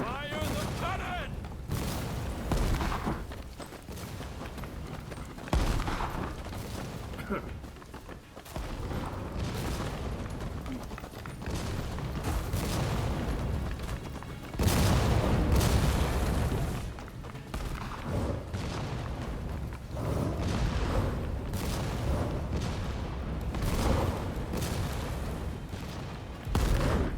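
Cannon fire in the Rise of the Ronin video game booms repeatedly, heavy thuds and blasts recurring throughout amid battle noise, with voices speaking at times.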